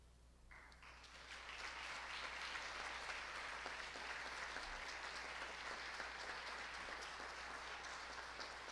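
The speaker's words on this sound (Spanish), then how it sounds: "maestro Domingo Serrano, un fuerte aplauso." An audience at a university tribute breaks into strong, sustained applause that swells within the first second and then holds steady and dense to the end, with no talking over it.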